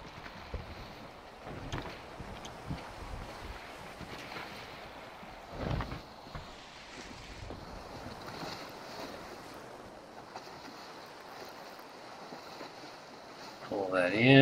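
Wind and waves rush continuously around a sailing ship in the game Sailwind, a steady, breathy roar of water and gusts with a few louder swells and a brief knock near the end.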